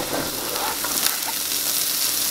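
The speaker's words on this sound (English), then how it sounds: "I'm going to go ahead and add the broccoli" Broccoli and carrots sauté in a frying pan with a loud, dense, steady sizzle of hot fat, faint stirring scrapes mixed in.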